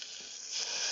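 Pinot wine hits a hot pan of oysters and shellfish, giving a bright, steady hiss and sizzle that grows louder in the second half, close and with no talking.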